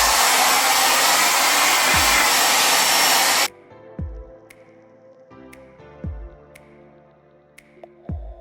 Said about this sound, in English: I'm just gonna start blow drying it and trying to brush through that dry shampoo.